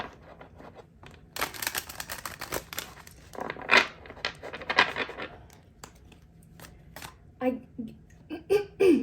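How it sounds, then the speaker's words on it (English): Tarot cards are shuffled by hand in quick riffling, crinkling bursts, with a person talking softly between the shuffles. "I'm gonna do one more shuffle."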